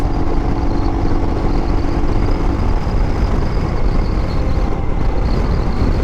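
A Royal Enfield Himalayan motorcycle cruising at about 70 mph makes a loud, constant engine drone mixed with heavy wind rush, and a low tone fades after the first couple of seconds.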